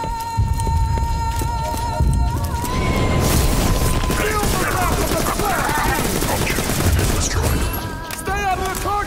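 Loud, dense fire and heavy booms from mortars and explosions in a Borderlands battle crash on continuously, a rumbling low-end barrage layered with sharper bursts and crackle.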